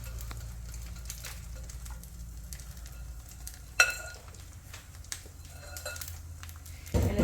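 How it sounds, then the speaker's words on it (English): Frittata egg mixture sizzles softly in a pan over medium-low heat, a faint steady crackle with a few utensil knocks and a louder clatter near the end. "you just put it in the pan, just like this. Put everything in there. Just like an omelet"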